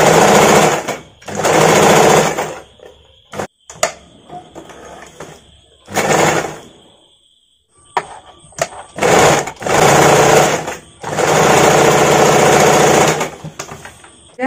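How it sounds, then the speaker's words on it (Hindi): A sewing machine stitches the lining of a padded princess-cut blouse, running loud and close in several bursts of steady rapid whirring separated by short pauses. "पलटने से पहले देखिए हम अस्तर का साइड की तरफ से एक सिलाई लगा लेंगे।"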